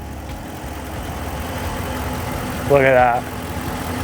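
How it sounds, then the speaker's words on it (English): A 2022 Ram 1500 Rebel's 395-horsepower 5.7-liter V8 idles steadily with a low, even rumble, while someone speaks briefly over it partway through. "Take a look inside the engine there while it's running."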